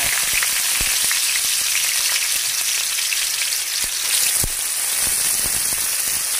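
Garlic and onion frying in hot cooking oil for pancit canton with bihon, a loud, dense, continuous hiss and crackle with a few dull knocks of a utensil, close up and without speech.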